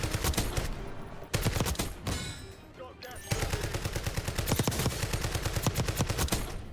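Rapid, loud shotgun and automatic gunfire in the video game Call of Duty Warzone, dense bursts of close shots with brief pauses and faint game sounds between volleys.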